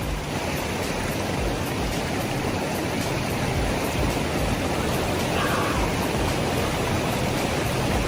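Cold mountain stream in Ladakh rushing over rocks, a steady, dense broadband wash of flowing water that stays constant and fairly loud throughout, with no voices.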